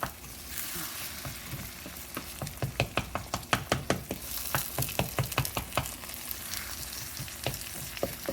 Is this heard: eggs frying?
yes